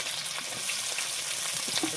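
Onion and chili sizzling in hot oil in a village kitchen, a steady crackling fry with small pops and stirring scrapes throughout.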